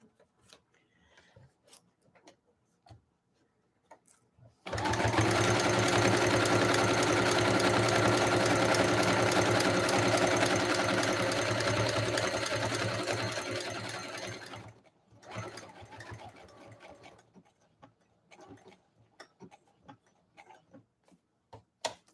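A sewing machine stitches a seam across thick pieces of fabric scraps for a notebook cover, running loud and steady for about ten seconds, then slowing into a short burst before stopping, with quiet handling clicks around it.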